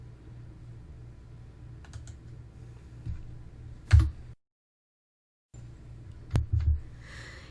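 Keystrokes tap on a computer keyboard at an uneven pace, with a few louder key hits, one short silent gap and a faint room hum underneath.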